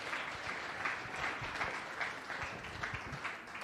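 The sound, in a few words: crowd applause at arena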